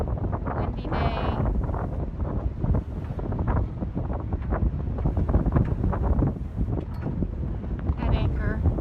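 Strong wind roars steadily across the microphone on an anchored sailboat off Mexico, with a person's voice running over it throughout.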